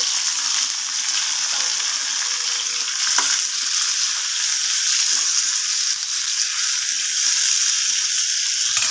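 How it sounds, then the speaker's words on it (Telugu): Chopped tomatoes fry in a little oil in a pan for a tomato and urad dal chutney, giving a steady, fairly loud hiss and crackle that runs unbroken throughout, with one brief clink partway through. "ఇందులో ఇలా కట్ చేసి పెట్టుకున్నాను కదా టమాటాలు ఇది వేసుకొని ఫ్రై చేసుకోవాలి"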